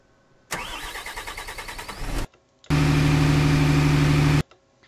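A bus in a video game drives over a dirt ramp, first with a rough, pulsing engine drone, then after a short gap with a loud, steady roar that cuts off abruptly.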